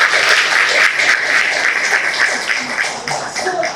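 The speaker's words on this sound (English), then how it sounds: "So a big round of applause for all of you also." Audience applause at a panel discussion on resilient India and a sustainable future, steady dense clapping from a seated crowd filling the whole stretch with no talk over it.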